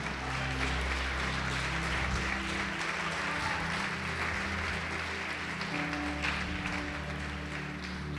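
Sustained applause from a church congregation, steady and fairly loud throughout, with a low hum beneath it.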